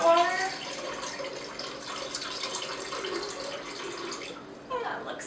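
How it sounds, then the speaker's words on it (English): Coconut water pours steadily into a blender for a chai smoothie, a gentle continuous splashing trickle lasting several seconds before a brief final splash. "I'm going to add in our coconut water first and just kind of estimate"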